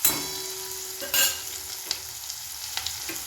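Tomatoes tipped into a hot pan for moraiya khichdi, a quiet sizzle with a couple of sharp bursts and light stirring clicks, no talking.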